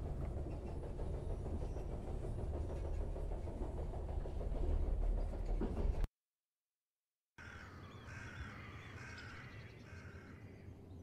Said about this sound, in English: The train's stopping.